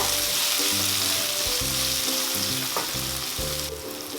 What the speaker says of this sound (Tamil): அப்படியே 2 தக்காளியும் கட் பண்ணி போட்டுக்கோங்க. தக்காளியும் நல்லா வதக்கிக்கோங்க